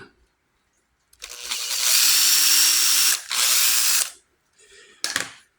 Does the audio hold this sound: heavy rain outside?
no